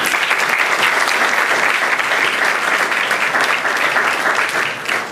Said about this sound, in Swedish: Välkommen fram och en applåd!